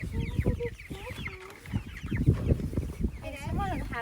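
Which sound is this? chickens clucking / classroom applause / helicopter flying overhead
chickens clucking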